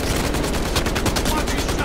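Rapid bursts of video game gunfire crackle loudly and almost continuously, dense repeated shots layered like a machine gun volley, with faint voices mixed underneath.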